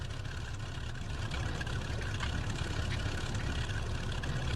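Twin engines of a Cessna 310L idle in X-Plane 11, a steady low rumble with a faint, even hum holding constant and close throughout, no voices over it.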